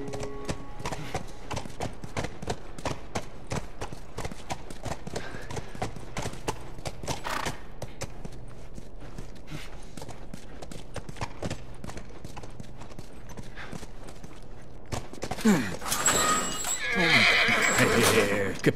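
A horse in the video game The Last of Us clip-clops along with steady, close hoofbeats throughout, then lets out a loud neigh and whinny near the end.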